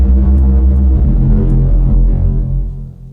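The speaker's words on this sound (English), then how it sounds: "for this EQ, it's just low pass, like pretty substantial low pass actually" A synth layer heavily low-pass filtered around 1 kHz with a low cut near 20 Hz gives a loud, dark, throbbing hum that holds steady and then fades slightly at the end, with no voices.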